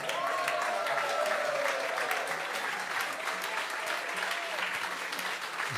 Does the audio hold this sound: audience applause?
yes